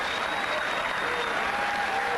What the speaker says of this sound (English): Your people will clap bloody anything, won't they?